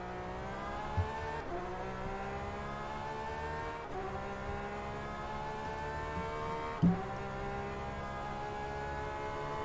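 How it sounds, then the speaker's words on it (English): A Porsche 991 racing car in a video game, heard from on board, holds a steady high engine drone with layered harmonic whine, nearly constant in pitch, with one or two brief gear-shift blips and no voices. "On board with the Porsche. And how do I know that's a Porsche? Just listen to that sound."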